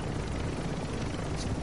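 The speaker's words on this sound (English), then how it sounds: "Alright, let's get on this chopper." A helicopter in the Call of Duty DMZ video game, heard up close as a loud, steady rotor roar and drone that runs unbroken from start to end.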